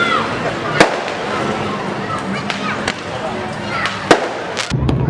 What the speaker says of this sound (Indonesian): Kembang api dan petasan memenuhi langit Pantai Carocok.